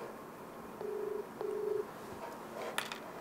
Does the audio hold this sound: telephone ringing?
yes